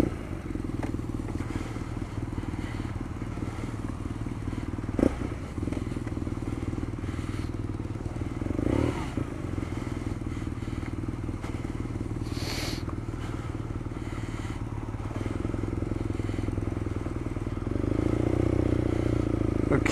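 A 2019 BMW R nineT Scrambler motorcycle idles with a steady low rumble that holds through the clip, rising a little in level near the end, with a few clicks and clatters over it.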